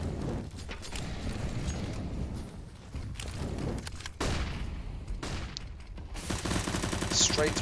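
In a CS:GO match, rapid gunfire bursts and sharp reports crack through busy game noise, ending with louder close shots, and a voice talks faintly beneath.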